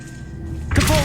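The Accio summoning spell in Hogwarts Legacy on PS5 starts with a low rumble, then a sudden bright whoosh and thud as the magic pulls something in.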